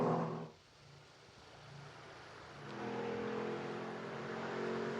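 Race cars lapping Road America during qualifying for the 2023 Road America 180, a muffled engine drone that drops away, then a rising roar as a car approaches and holds at a distant, steady level.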